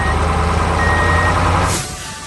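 An animated orange truck idles with a loud engine drone while steady reversing beeps sound over it, then the noise drops away near the end after a short hiss like an air brake.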